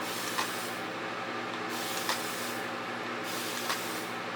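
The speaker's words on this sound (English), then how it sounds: "spray lather all over my arm" Shaving lather sprays from a can onto an arm as a steady close hiss, with brief clicks or pauses about every second and a half.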